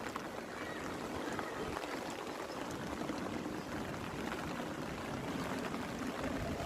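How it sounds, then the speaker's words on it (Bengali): Light drizzle falls on a rooftop flower garden in strong wind, making a steady, dense, even hiss and patter that never lets up. "ঝিরিঝিরি বৃষ্টি পড়তেছে।"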